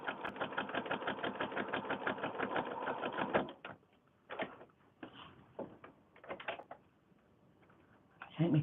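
A sewing machine stitches through loose fabric book pages, running in a steady rapid burst of needle strokes for about three seconds, then falling to a few short, quieter bursts with pauses between them.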